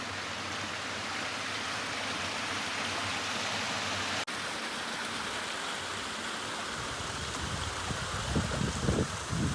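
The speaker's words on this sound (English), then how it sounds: "check out this beautiful waterfall" Waterfall on Nine Mile Lake heard from a canoe out on the water, a loud steady broadband rush of falling water throughout, with some rougher splashing and paddle-like disturbance toward the end.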